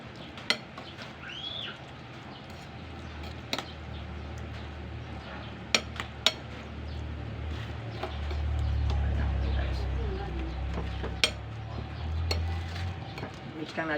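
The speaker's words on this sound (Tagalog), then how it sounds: "Mix lang natin siya para maghalo yung kanyang lasa." Mega sardines in spicy sweet and sour sauce being stirred in a pan, with soft scraping and occasional sharp clinks of a utensil against the pan over a low background rumble.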